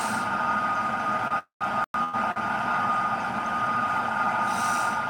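A heavy train engine in a train simulator game drones and rumbles continuously as dynamic brakes are applied, with a brief sharp dropout near the middle before the low mechanical roar resumes.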